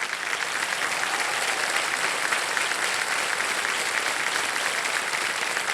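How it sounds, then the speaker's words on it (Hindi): Studio audience applauding on the KBC quiz show set, a dense, steady wash of clapping that holds at full strength throughout with no talk over it. "तालियां बज जाएं इनके लिए।"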